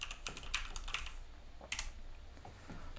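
Computer keyboard clacking as a terminal command is typed on a Raspberry Pi 4 setup, a short irregular burst of close, quiet key taps with small pauses between them.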